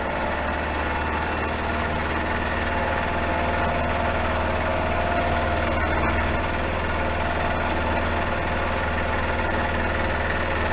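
A lathe turning at about 1150 RPM while taking a 1 mil cut, a steady loud mechanical hum and whir that holds constant throughout with no breaks or talking.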